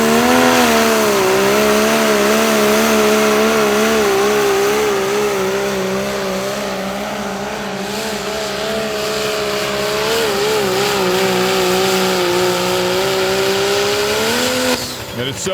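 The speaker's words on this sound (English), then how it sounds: "It's so fun to watch them spool up those big turbos, and man, when they hit, boom, they are there." A diesel pulling truck with big turbos drones loudly and close, its engine tone wavering as the turbos spool up, then rising in a long sustained roar before cutting off abruptly near the end.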